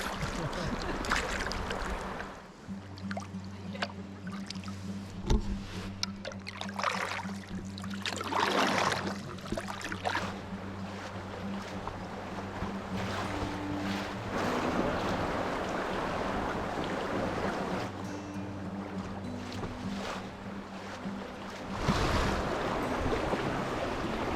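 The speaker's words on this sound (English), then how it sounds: "I should probably paddle, I guess." Canoe or kayak paddled on the Pelorus River in Marlborough, New Zealand, with soft water splashes and gurgling against the hull under a continuous backing of music.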